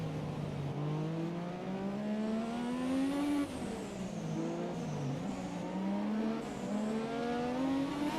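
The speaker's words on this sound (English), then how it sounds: "Hearing the dump valves on the car is so fun." A Formula 1 car engine in the game F1 2017 revs and climbs through gears in a steady, loud drone, with pitch rising and dipping as it shifts, plus faint hissing whooshes of dump valves overhead.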